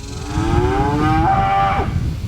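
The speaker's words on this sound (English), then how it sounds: "We have a bunch of little baby cows that will be tagging along on this video" A loud, drawn-out moo from a young calf out in the countryside, rising in pitch, close by over steady outdoor background noise.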